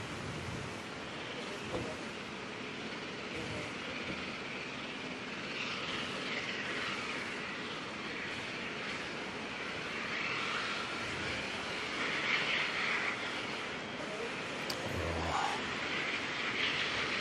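Air New Zealand Airbus A320 in All Black livery at Auckland Airport on a wet runway, heard as a distant, steady jet engine roar across the airfield with faint background rumble.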